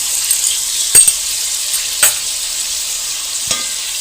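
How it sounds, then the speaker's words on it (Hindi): Chicken with ginger sizzling steadily in a hot pan, with a few scraping clinks of a spoon stirring it, close up and without talk. "तो चिकन डाल दिया, थोड़ा सा इसको फ्राई करेंगे।"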